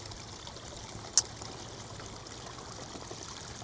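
Steady, faint wash of water circling in a koi pond with a strong current, a continuous low trickle and stream-like murmur with one brief sharp click partway through.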